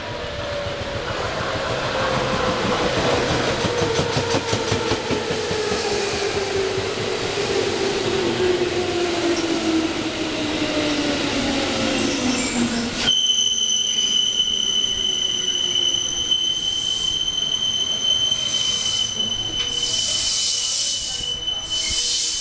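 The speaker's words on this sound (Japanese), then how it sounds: "2番乗り場に電車が参ります。" A JR West 221 series electric train rolls into Otsu Station loudly with a descending electric whine and rumbling wheels, then squealing brakes ring out as it slows to a stop.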